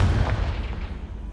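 A deep rumbling Confringo spell blast in Hogwarts Legacy, heavy and booming at the start, then decaying into a lingering low roar.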